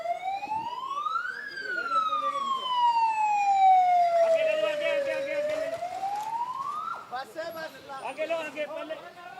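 A wailing fire engine siren sweeps slowly up and down in long rising and falling tones, loud and close, responding to a factory fire, with a second fire engine siren and traffic noise joining toward the end.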